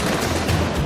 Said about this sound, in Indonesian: Biji-bijiannya meledak di wajan.